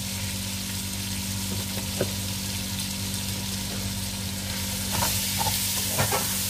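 Spices sizzling as they fry in a pan for a Filipino chicken dish, with a steady hiss and a few sharp stirring clicks near the end.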